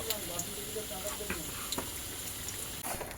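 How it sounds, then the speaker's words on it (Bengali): Chicken being sautéed and stirred in a kadai, with a soft steady sizzle and occasional spoon scrapes, fairly quiet and close. "এইভাবে চিকেনটাকে কষাতে হবে"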